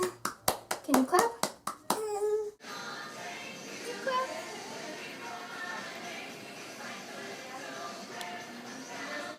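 A 10-month-old baby claps hands at home, a quick run of sharp, close claps in an uneven rhythm, then the clapping stops and quieter room sounds with a child's babble and an adult voice follow.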